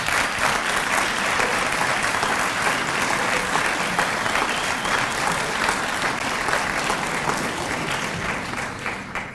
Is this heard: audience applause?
yes